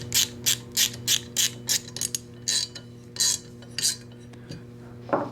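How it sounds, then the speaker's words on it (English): Ratchet driving in the barrel bolt on a SCAR rifle, a close series of quick clicking bursts in an uneven rhythm over a faint steady hum, with a short pause near the end. "Now we can take our barrel bolt and install that."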